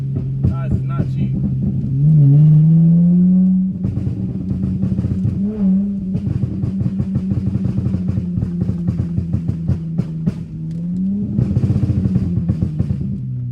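A car engine revs loudly and repeatedly while the car drifts around corners in the rain, rising and falling in pitch with rapid sputtering pulses, close and prominent throughout.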